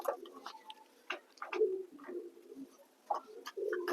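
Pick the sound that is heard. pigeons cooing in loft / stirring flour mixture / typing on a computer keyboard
pigeons cooing in loft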